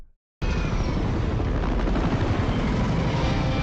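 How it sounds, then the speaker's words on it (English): Movie helicopters thunder after a brief silent gap, a loud, continuous rotor roar with dense low rumble that holds steady and unbroken to the end. "Oh, they can hear the helicopters."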